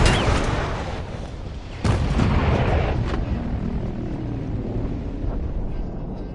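An enemy bomber squadron in the video game Battlefield 1 roars loudly and steadily overhead, engines droning and wind rushing, with a heavy boom cutting in partway through.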